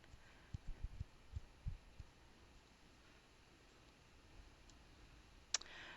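A single sharp computer mouse click comes near the end, faint and close, following a few soft low thumps against quiet room noise.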